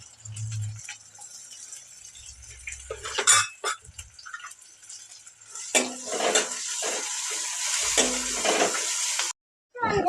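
Onions, curry leaves, green chillies, mustard and cumin frying in a pan, with a spatula scraping and clinking against the metal over a continuous close sizzle, strokes coming in uneven bursts.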